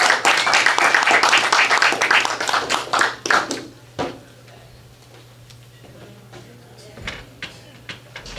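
Audience applause and clapping at an open mic night at a gallery brew house on Valentine's Day, loud and dense for about three seconds, then thinning to scattered claps and taps over a quiet room.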